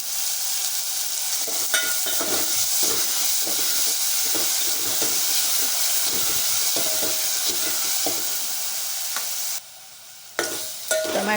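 Tomatoes with salt frying and softening in a pan, a steady broad sizzle and hiss with scattered stirring clinks and scrapes throughout, dipping briefly near the end.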